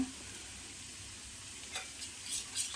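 Onion and carrot frying in a pan for a dumpling soup, giving a steady, low sizzle with a few brighter crackles and stirring scrapes toward the end, close by with no talking.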